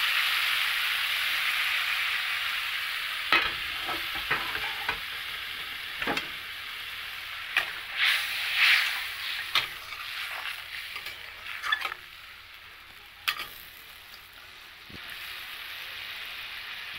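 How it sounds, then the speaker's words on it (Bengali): Curry gravy for a fish dish bubbling and sizzling steadily in a pan, with occasional sharper pops and clinks of a spoon or pan over the continuous hiss. "ঝোলটা ফুটে গেছে"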